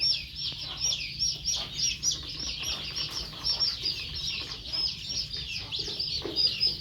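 Chickens clucking and chirping with some wing flapping, a steady busy flock sound close by with bird calls over low background noise.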